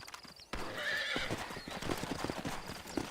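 Galloping horse hooves from the Red Dead video game, a steady rapid clip-clop with a horse whinny near the start, loud and close amid shouting and action sounds.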